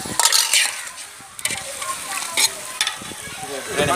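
Village-style chicken biryani masala is stirred in a sizzling pot, with uneven scraping and clattering strokes over a crackling fry, close and fairly loud, no speech.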